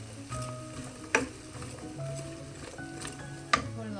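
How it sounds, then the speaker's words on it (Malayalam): Sliced onions fry in a pan with softened ingredients for a Kerala-style chicken curry, giving a soft steady sizzle. Two sharp clicks of a spoon against the pan mark the stirring, and faint voice sounds drift underneath. "ഇപ്പോൾ നമുക്ക് സവാളയും കൂടെ ചേർക്കാം. അതുകൊണ്ട് ഇതോടൊപ്പം ഒന്ന് മിക്സ് ചെയ്യാം."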